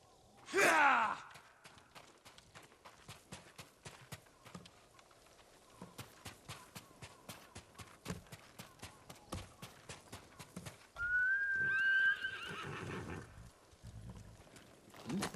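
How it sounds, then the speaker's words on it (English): A horse in the Ghost of Tsushima video game trots with steady hoof clops at middle distance, opening and later breaking into loud snorting, blowing breaths over quiet game ambience with no talk. "You're a good horse, Kage."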